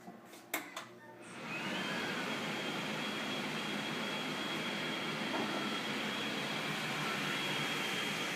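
A telescoping downdraft exhaust vent's fan starts up after a few clicks and then runs as a steady, even whoosh with a faint whine, heard from a little distance with no talking.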